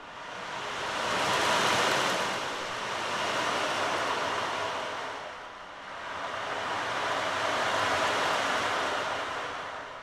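Ocean surf at sea rolls in broad, steady swells of hissing wash, rising and easing twice with a brief dip between, continuous and moderately loud with no voices.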